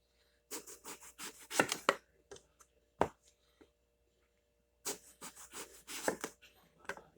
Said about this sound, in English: I'll keep cutting this up